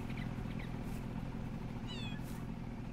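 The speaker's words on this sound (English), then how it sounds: "Oh, we got our kitty cats." Cats meowing in the farming game Farming Simulator 22: a few short mews early on, then a clearer rising-falling meow near the end, heard alone over a steady low ambient hum.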